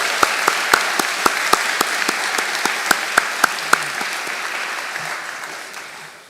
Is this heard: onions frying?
no